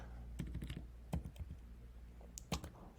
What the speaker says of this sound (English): Trying to type and think and talk at the same time and it doesn't work out.